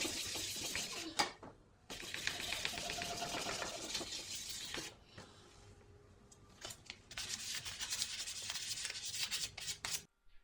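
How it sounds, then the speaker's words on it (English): Abrasive hand scuffing of a varnished wooden canoe paddle: close, rhythmic rasping strokes in several bursts with brief pauses between them, no voices. "we're gonna scuff this all back up and we're gonna revarnish the whole paddle this time"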